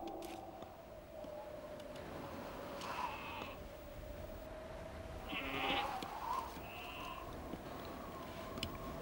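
Rocky Mountain goats in a harsh high-mountain setting giving several faint, wavering bleats spread over a quiet windy background.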